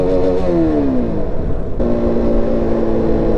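Motorcycle with no clutch downshifting, the engine close and loud with its pitch falling and rising through rev changes and a clear break at the gear change, continuous throughout.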